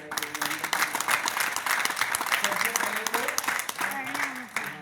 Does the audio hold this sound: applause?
yes